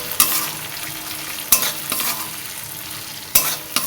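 A drumstick-flower curry sautéing in a pan with cumin powder: a loud, close sizzle punctuated by three quick, harsh spatula scrapes.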